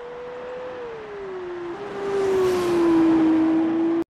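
Formula 1 race car in the F1 2019 video game, a steady loud engine drone that dips slightly then climbs in pitch as it accelerates, continuous and close with no talk.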